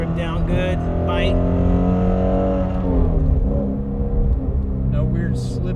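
A Ford Mustang GT with the 10R80 automatic transmission, its V8 engine droning steadily and loudly while driving, a deep harmonic hum with slight pitch shifts, with a voice talking over it.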